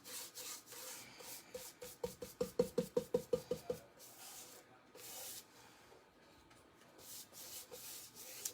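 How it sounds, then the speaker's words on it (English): A paintbrush lays a quick second coat of paint onto a craft riser, giving a soft rhythmic rasp of about a dozen close, regular strokes that fades into quiet brushing and room noise. "I'm going to go ahead and give it another quick coat."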